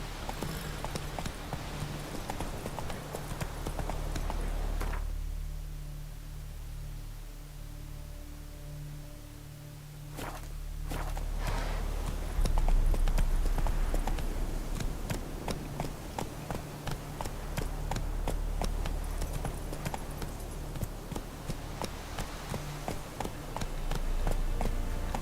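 Horse hooves clip-clop steadily in The Witcher video game, a continuous trotting rhythm over a low rumbling game soundscape, with a brief quieter stretch before the hoofbeats pick up again.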